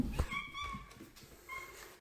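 A cat meows twice, a longer call followed by a shorter one after a brief pause, close by in a quiet room.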